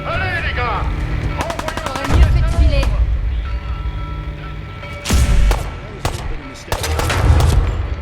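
Rapid bursts of gunfire from the video game Fallout 4, with repeated sharp shots clustered in a few volleys and booming low impacts, over a busy game soundscape with music-like tones.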